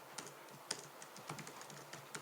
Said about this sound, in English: having trouble typing now.